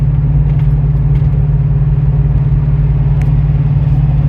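Loud, steady low engine drone from a 2024 GMC 3500 AT4 pickup with a 6.6-liter gas engine, towing a fifth-wheel trailer on the highway in eighth gear, heard constantly from inside the cab.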